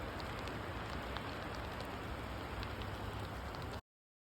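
Steady rain on the Hardanger scenic route above Eidfjord, a dense, loud, unbroken hiss of rainfall with scattered close drop ticks, stopping abruptly near the end.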